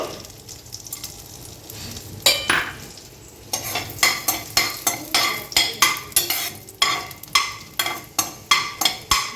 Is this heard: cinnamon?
yes